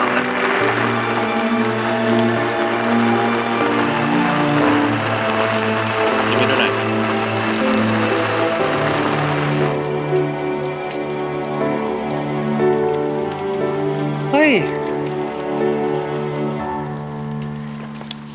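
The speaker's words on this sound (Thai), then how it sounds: "แค่ฝนตกเอง มันไม่ได้ตกตลอดไปสิไหนมันด็หยุดแล้ว" Steady rain patters and hisses on a surface, dense and fairly loud, thinning out partway through, with a few drips and faint background sounds.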